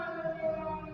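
The eerie air-raid siren from the Silent Hill film holds a brief, steady, droning wail at moderate volume.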